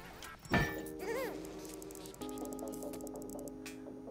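Bee swarm buzzing in the video game Ultimate Chicken Horse, a steady insect drone that continues through the clip alongside layered tonal game sounds, with no talking.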